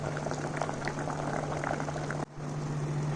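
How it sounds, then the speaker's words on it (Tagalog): Sweet corn boils in a pot, giving a steady bubbling and simmering texture with a constant low hum, close and moderately quiet, briefly dipping near the end. "Yan po ang sweet corn, yummy. Kumukulo-kulo."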